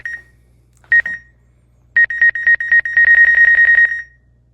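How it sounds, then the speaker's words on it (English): Countdown beeps from a DJI OM4 SE gimbal in photo self-timer mode: a single short beep, then another, then a run of evenly spaced beeps that quicken into a rapid continuous burst before stopping, clear and close with no talking. "In photo mode, it looks like you also have the ability to set a timer."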